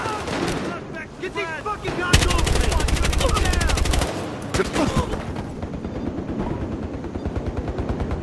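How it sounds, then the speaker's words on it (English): In the game Battlefield Hardline, a minigun fires a dense, rapid burst lasting about two seconds, with scattered gunfire, impacts and excited voices around it. "I got a minigun."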